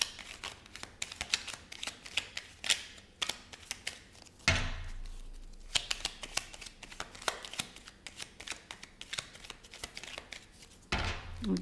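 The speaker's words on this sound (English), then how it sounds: "let me just give it a quick shuffle before that" Tarot cards being shuffled by hand, a rapid series of crisp riffling snaps and flutters in bursts with brief pauses and a couple of heavier thuds, close and clear with no talk.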